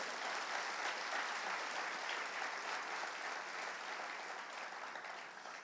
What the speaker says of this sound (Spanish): si le dan un aplauso a Cristo, déselo fuerte